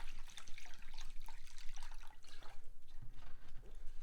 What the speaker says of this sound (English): We're just going to dump the white vinegar.